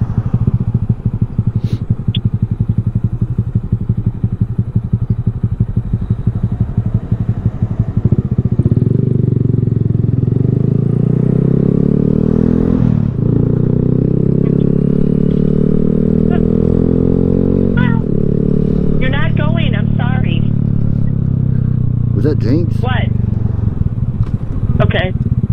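A Honda Grom motorcycle engine drones steadily and close while riding, its pitch rising and falling with the throttle across the whole stretch, with a voice talking over it.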